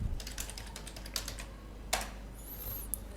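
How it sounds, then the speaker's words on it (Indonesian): Rapid keyboard typing on a computer while entering a location for a Radiomaster TX16S radio map download, a quick run of close, light key clicks with a few louder taps and a brief swish near the end. "kita ketik saja"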